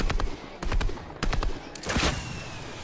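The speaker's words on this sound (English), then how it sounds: "I'm gonna try and get some shots off on him now" Gunfire in Fortnite comes as several sharp bursts of rapid shots in quick clusters, fairly close and loud, with brief gaps between volleys.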